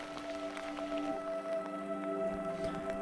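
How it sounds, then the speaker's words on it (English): Pouring rain drums on a car parked during camping in Switzerland, a steady patter of drops on metal and glass heard from inside, with faint tonal hum running underneath and no talk. "looking at the pouring rain and wondering if it would ever stop."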